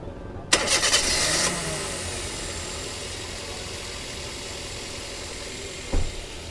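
A Toyota Avanza's engine cranks briefly and catches, then settles into a steady, close mid-pitched idle, with a short bump or knock near the end.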